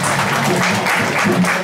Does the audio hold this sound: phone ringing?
no